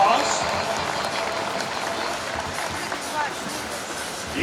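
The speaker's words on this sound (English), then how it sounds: "Nice round of applause." Spectators at a baseball power showcase give applause after a home run. The clapping and crowd noise are broad and steady, with a voice audible in the mix.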